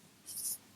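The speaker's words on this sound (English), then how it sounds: "I'm just going to write this number down" A pen writes a number on paper in one short, soft scratching stroke, faint and close.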